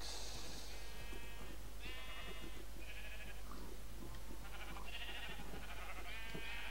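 Several sheep in the Minecraft video game bleat in short repeated calls, some overlapping, over a steady low background hum.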